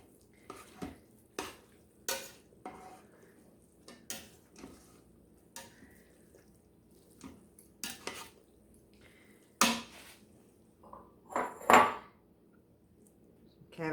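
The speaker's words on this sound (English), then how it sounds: "Give it a good mix" A spoon scrapes and clanks inside an Instant Pot while wilted cabbage and sausage are mixed. The knocks are irregular, close and fairly quiet, separated by soft shuffling of the food, with no voices.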